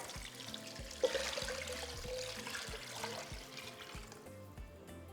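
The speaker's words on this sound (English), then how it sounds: "here we're going to add 7 cups of water" Water pours into a soup pot for Mexican meatball and rice soup, a soft running splash with gurgling pulses, fairly quiet and close, with no voices.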